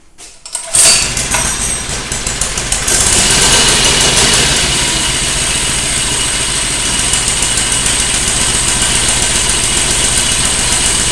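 A mini bike's small engine catches and settles into a steady idle, a loud continuous buzzing putter that carries on evenly and close by, with no one speaking.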